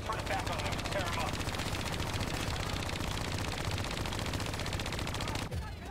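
Hijacked automated turrets in Black Ops 3 blaze away in a continuous rapid stream of machine-gun fire, loud and dense, running nearly the whole time before cutting off near the end.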